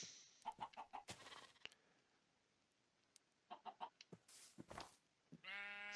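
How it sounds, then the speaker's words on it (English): Minecraft cold chicken variant in a video game, giving several short clucking bursts at moderate loudness, followed by a brief sheep-like bleat near the end. "here is the cold chicken variant"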